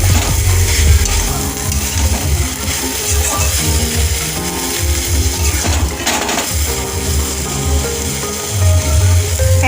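Banana flower curry with eggs is sautéed in a pan, giving a moderate sizzle beneath repeated scraping and knocking of a spoon stirring against the pan.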